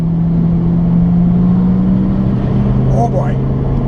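A track car idles and revs, a loud steady engine drone with a sustained low hum and slight rising whine near the end, heard close by with a faint chirp late on.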